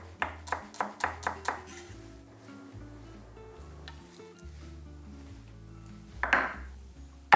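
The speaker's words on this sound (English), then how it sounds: "We slice our scallion and divide it into 2." A knife slicing scallions on a cutting board in a kitchen: about six quick, evenly spaced chops, close and clear, followed by quieter handling and a brief clatter at the end.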